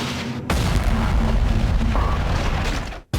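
An explosion at a sewer manhole erupts as a sudden loud, broadband boom, followed by a sustained roaring rumble that lasts more than two seconds before cutting off abruptly.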